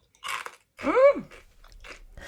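Crunchy no-bake meringues made outdoors in a garden during a heat wave are chewed close up, giving a few crisp bites and a crackling mouth sound with no talk.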